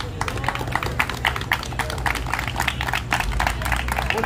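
An audience on the street claps for a street clown, a brisk, uneven patter of hand claps from a modest crowd held at a steady level, close by and lively.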